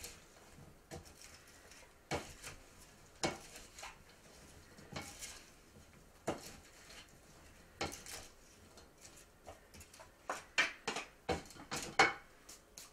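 Sliced cucumbers and onions tossed with salt in a bowl, giving a run of light clattering and tapping knocks of utensils against dishware, scattered at first and then quicker and louder toward the end, with no voices.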